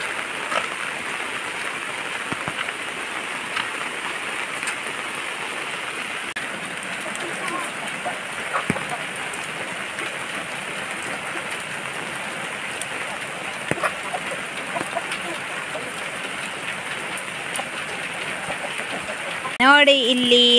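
Rain falls steadily on surfaces as a continuous, even patter and hiss, with a brief louder knock near the end.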